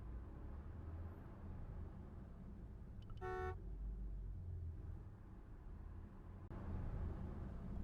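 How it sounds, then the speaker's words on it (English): Vehicle horns in the Broken Sword video game: one short honk bursts out over a steady low rumble of traffic, with a faint click later and no voices. "vehicle honking noises"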